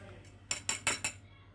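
Small metal spoon clinking against a dish while cheese is added for an omelette, four quick bright clinks in a row, close and fairly loud, then quiet.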